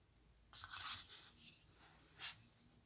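A metal screw is driven into a plastic part of an Iron Man model kit to cut a thread, making two short, faint scraping, creaking bursts in a quiet room.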